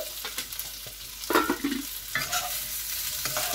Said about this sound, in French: Et vous les laissez dorer un petit peu.